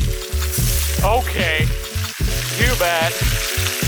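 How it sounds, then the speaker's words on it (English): Loud, crackling sizzle of fish frying in hot oil, close up and continuous, with brief bits of talk mixed in. "Listen to this, this should be a good sizzle."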